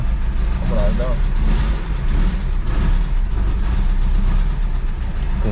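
A 1974 Volkswagen Brasília, abandoned for thirty years, idles with its hood open, giving a loud, steady, close engine rumble throughout while people talk over it.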